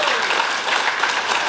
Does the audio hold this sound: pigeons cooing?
no